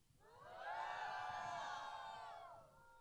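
A worship-session audience shouts together on a count, one sustained, loud collective yell that swells, holds for about two seconds, and fades. Many voices blend into a single roaring cry.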